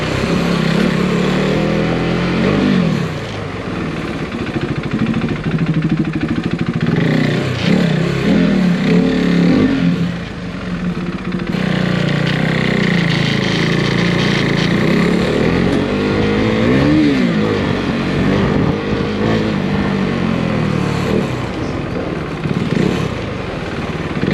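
A Husqvarna 401 motorcycle engine drones loud and close while riding, with a steady roar and a few shifts in pitch as the throttle rises and eases.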